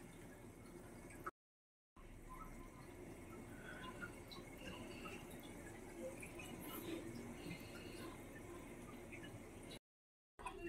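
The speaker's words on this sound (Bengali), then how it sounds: "ভাজা হচ্ছে একদম ধিমি আঁচে, মানে একদম লো ফ্লেমে লাল লাল করে পুরো ভেজে নেব।" Langcha milk sweets deep frying in oil on a low flame, a soft, steady bubbling hiss that runs quietly throughout, broken by two short silent gaps.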